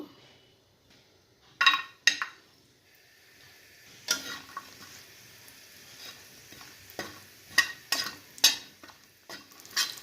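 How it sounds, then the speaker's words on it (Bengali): Bori lentil dumplings fry in a pan after fish, with scattered spatula scrapes and clinks over a soft sizzle, the stirring strokes coming in irregular bursts. "এটার মধ্যে এখন একটু বড়ি ভেজে নেব"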